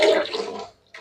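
Water is poured into a pot of kadhi during cooking, a short close gush that fades out, followed by a faint splash.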